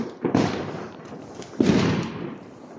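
New Year fireworks burst in two loud, broad booming waves with crackling tails, echoing across an open outdoor area.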